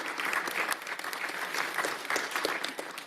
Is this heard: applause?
yes